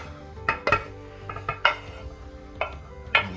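Cooked hamburger meat goes into a pot of already cooked noodles, with several sharp clinks and scrapes of a utensil against the metal pot and soft stirring between them, close and without talk.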